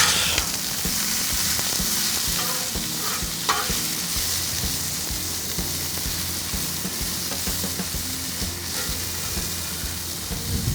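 Seasoned onions and mushrooms, dusted with garlic jalapeno rub, are stirred in a pan on a Pit Boss KC Combo, giving a steady sizzle with scraping and clattering spoon strokes throughout, no talk.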